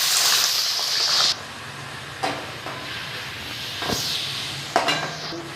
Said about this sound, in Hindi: अच्छी तरह हम इसे भून लेंगे चिकन को। मैंने पहले ऑयल में बनाती थी, अब मैं बना रही हूँ सरसों का तेल में।